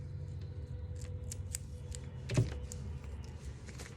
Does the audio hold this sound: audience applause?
no